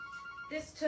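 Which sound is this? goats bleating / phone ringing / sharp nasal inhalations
phone ringing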